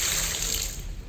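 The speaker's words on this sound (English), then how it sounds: "I could use a cold shower." Cold shower water pouring and splashing steadily, a broad continuous hiss with no pauses, close and fairly loud, heard on its own without voices.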